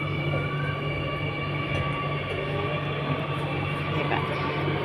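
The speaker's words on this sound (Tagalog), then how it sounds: "agad-agad na may MRT na parating" An MRT train on Singapore's Circle Line rumbles steadily with a droning, humming tone, a continuous rail noise close by and without any clear voices.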